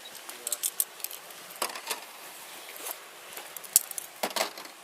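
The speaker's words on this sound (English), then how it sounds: "Where are the cup keys at? My" A keychain of keys jangles in short metallic clinking bursts, with irregular chinks and rattles scattered over a few seconds, close by and moderately loud.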